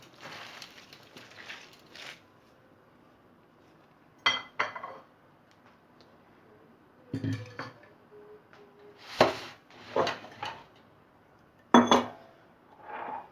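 Shredded cabbage being mixed for pickles, with intermittent clinks and scrapes of utensils against a bowl in short separate bursts over quiet rustling.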